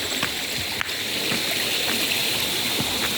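Mountain water flowing in a stream, a constant close rushing wash with faint small splashes and one brief knock, no voices.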